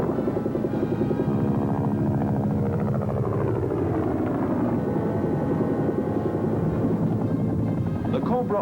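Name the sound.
Bell AH-1G Cobra gunship helicopter flying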